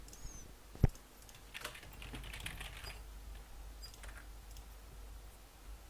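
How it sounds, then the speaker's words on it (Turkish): Faint clicks and taps of a computer keyboard come from a distance, with one sharper knock near the start, over a low background hum. "Bak bak klavye sesi geliyor."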